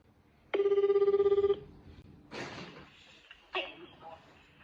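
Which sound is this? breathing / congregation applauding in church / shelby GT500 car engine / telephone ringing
telephone ringing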